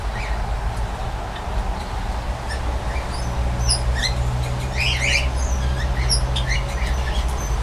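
Aviary birds calling in a backyard aviary, with scattered chirps, whistles and squawks rising through the middle and later part over a steady low hum, the calls fairly near and overlapping.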